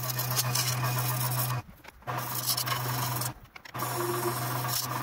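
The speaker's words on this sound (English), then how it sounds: "this time we're going to do it with a spindle gouge" Spindle gouge cutting a spinning wooden top on a lathe, a close, continuous rasping shear over the lathe's steady hum, broken by two brief pauses.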